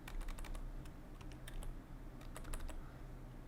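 Someone types a password on a computer keyboard while setting up a PC, a quiet, close run of quick irregular key clicks in short bursts with brief pauses.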